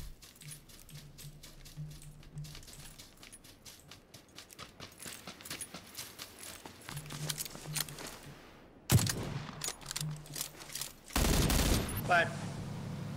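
Gunfire in PUBG, a battle royale shooter: a rapid run of sharp distant shots with a few louder bursts near the end.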